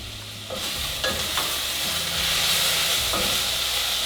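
Paprika and oregano cooking in a soup pot for a white bean and vegetable soup, giving a loud continuous sizzle and hiss with a few soft stirring scrapes.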